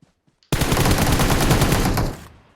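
A long, loud burst of rapid automatic gunfire in the mobile battle-royale game PUBG Mobile, close up and dense, runs for nearly two seconds before cutting off, preceded by a few faint small noises.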